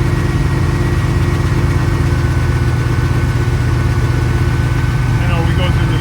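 A car engine idles steadily with a low, constant rumble close by, held up with light throttle to keep it from stalling, running continuously without pause.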